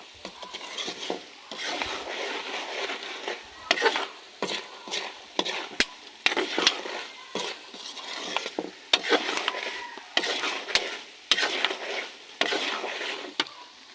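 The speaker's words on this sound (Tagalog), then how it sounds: "Haluin na lang, haluin talaga to guys. Huwag mong titigilan hanggat hindi pa siya luto." Salted peanuts stirred in a pan while cooking, repeated scraping and rattling strokes in irregular bursts, close and fairly loud, with soft sizzling between strokes and no talking.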